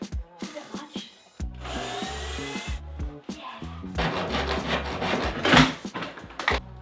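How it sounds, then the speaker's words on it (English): A power drill used while demolishing a kitchen during a DIY build whirs in short, close, loud bursts, mixed with knocks, scraping and rattling of wood and tools. "This is a feisty drill."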